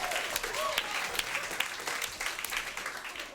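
Comedy show audience in Toronto applauding, a dense wash of many hands clapping at moderate distance, with a host's voice carrying over it.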